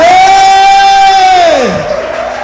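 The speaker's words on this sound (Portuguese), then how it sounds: "vamos aplaudir a Igreja Católica" A church congregation cheers with a loud, sustained collective shout that holds steady, then slides down and fades within about two seconds.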